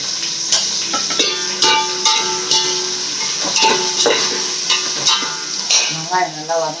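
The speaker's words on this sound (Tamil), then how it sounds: "வெங்காயம் நல்லா வதங்கட்டும்." Onions and green chillies sautéing in a pan for chicken biryani, a moderate sizzle with repeated scraping stirs and clinks of a spatula against the pan, with faint talk.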